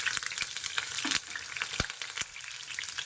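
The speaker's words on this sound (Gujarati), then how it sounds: "હવે આપણે 1 ઝીણી સમારેલી ડુંગળી એડ કરી દેવાની છે।" Finely chopped onion hitting hot oil in a kadai for pav bhaji, a steady close sizzle and crackle with a few sharp taps of stirring, no voices.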